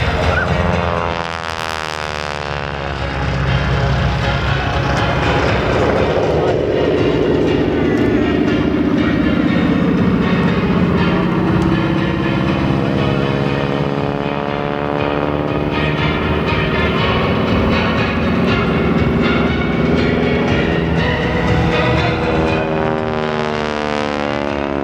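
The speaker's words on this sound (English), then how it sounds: "Watch now as Thom approaches and performs this low-altitude, high-speed pass" A polished aluminum North American T-6 Harvard warbird makes a low-altitude, high-speed pass at an air display, its loud radial engine and propeller roar rising, sweeping past with a strong pitch shift and fading away.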